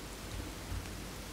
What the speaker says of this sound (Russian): Дождь, типа, якобы по камням.